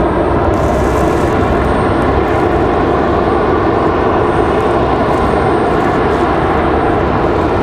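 A JetBlue airliner arriving from Fort Lauderdale roars past at Raleigh-Durham airport, a loud, continuous, broadband engine rumble that stays steady and close throughout.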